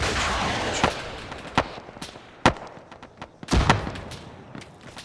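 Explosions and gunfire in a video-game firefight include a hand grenade thrown over a wall. Several sharp, loud blasts and shots come at irregular intervals, the heaviest near the end, over quieter background rumble.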